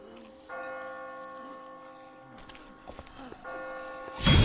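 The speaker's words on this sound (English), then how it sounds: "I just got spooked by those bells" Church bells toll with sustained ringing tones in The Walking Dead video game, rising and fading over several strikes, before a sudden loud crash at the end.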